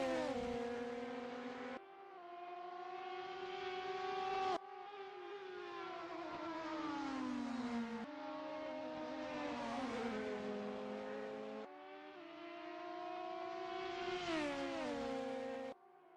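Super GT race cars scream around Albert Park in a sim race, their high engine whine climbing and then dropping sharply with each gear shift, loud and continuous with no talk.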